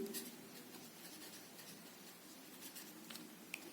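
Marker or chalk scratching steadily across a board during a chemistry lesson on solutions, a continuous rubbing stroke with a few brief taps, close and fairly quiet, with no talk.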